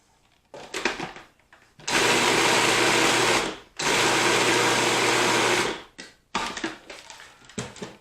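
A food processor pulses shiitake mushrooms and seitan in loud whirring bursts, two long runs of about two seconds each, framed by shorter choppy pulses and rattles.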